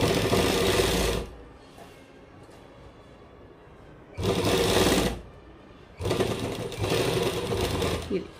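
A sewing machine stitches a kurta made from plain fabric in three loud, steady runs, near and alone, with quieter pauses between them.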